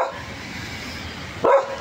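A dog gives one short, sharp bark close by near the end, after a stretch of low background noise.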